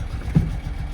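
A Lancia Flavia sports car engine runs at a low, steady idle, giving a muffled rumble with a brief swell partway through.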